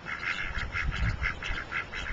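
Ducks quack in a steady series of short, evenly spaced calls, close but fairly quiet, with no talk over them.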